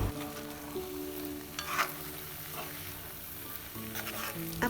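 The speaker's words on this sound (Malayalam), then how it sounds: "അതും ഇതിലേക്ക് ഇട്ട് കൊടുത്ത് നല്ലപോലെ മിക്സ് ചെയ്തെടുക്കാം." Roasted coconut is stirred into a kootu curry for an Onam sadhya, giving a brief, quiet sizzle with a few scraping stirs and no talking.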